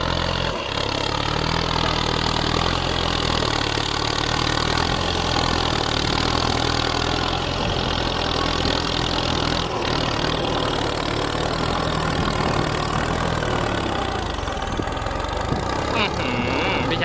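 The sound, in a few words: heavy machinery engine idling, faint turbo whine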